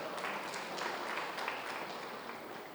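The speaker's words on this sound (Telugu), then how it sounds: "మాధవక్కకు ఒకసారి గట్టి క్లాప్ చేద్దాం" Audience applause at a Seva Dal community event in Khammam: steady, moderately faint clapping from a crowd, sustained evenly with no talk over it.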